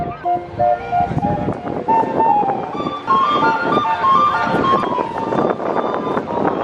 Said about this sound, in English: It's essentially music coming from a boat called Natchez